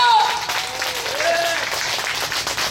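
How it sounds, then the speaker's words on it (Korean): A church congregation applauds at a Korean worship service, a dense, steady patter of clapping throughout, with a voice briefly heard over it near the start. "기도해 주시면 박수로 쳐주세요."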